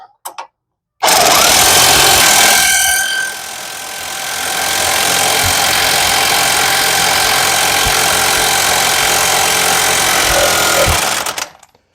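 A wrench drives a bearing press tool onto the wheel hub of a Chevrolet Aveo, pressing in a roughly 30 mm bearing. A loud, continuous mechanical hammering whir runs for about ten seconds, close and alone.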